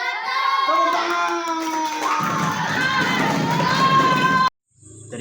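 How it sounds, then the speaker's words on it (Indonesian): A classroom audience of students at an Islamic studies presentation breaks into crowd noise and clapping over sustained tonal sound, loud and dense for several seconds before cutting off abruptly. "Tepuk tangan."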